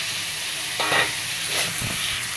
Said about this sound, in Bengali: দিয়ে একসাথে ভালো মতো কষায় নিব।